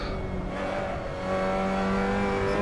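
A car engine revs hard through a corner in a race-style drive, holding a strained, steady drone that climbs slightly in pitch and grows louder partway through.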